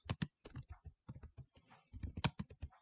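Java code being typed on a computer keyboard: quick, crisp key clicks come in uneven bursts with short pauses between words, close up and alone.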